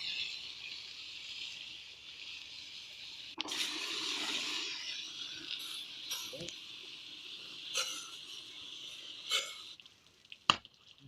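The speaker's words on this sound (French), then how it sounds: "on passe un petit coup de jet pour bien rincer" A water jet rinses a Desjoyaux pool filter, starting suddenly as a steady, bright hiss of spraying water that continues to the end, broken by a few short knocks and a sharp clack near the close.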